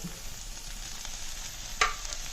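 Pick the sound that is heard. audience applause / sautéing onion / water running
sautéing onion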